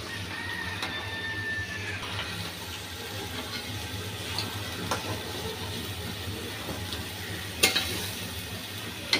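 Silver carp pieces sizzle steadily in a pan of spiced gravy while they are being fried down, a continuous moderate crackle with a few sharper pops near the end and no talking.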